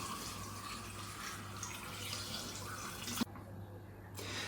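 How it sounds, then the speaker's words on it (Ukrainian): Clean water poured onto beetroot and sugar for homemade kvass, a steady splashing stream for about three seconds that cuts off abruptly, then a quieter background. "до буряку з цукром додаємо чисту воду"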